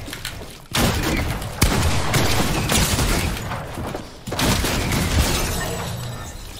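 A broken Dragon's Breath shotgun in Fortnite Season 6 fires in rapid succession, loud blasts and crackling bursts that follow one another across the clip, with brief gaps between volleys.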